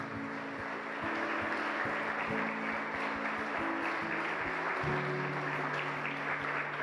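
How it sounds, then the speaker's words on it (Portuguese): A church congregation applauds during a Portuguese-language worship service, a steady, dense wash of clapping lasting throughout, with a sustained musical tone or held chord running underneath. "Vamos aplaudir Jesus por essas vidas."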